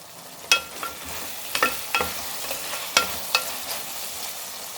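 A spoon clinks and scrapes irregularly against a pot while sambar is stirred, over a soft steady sizzle, close by.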